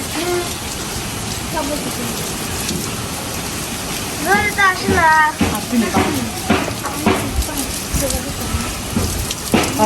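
A steady, loud rush of motor-pumped water pours into a tank, with voices talking over the flow partway through.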